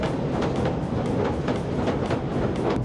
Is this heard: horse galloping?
no